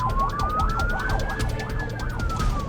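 An ambulance siren wails continuously from a moving emergency vehicle, sweeping up and down in a fast yelp pattern, loud and close throughout.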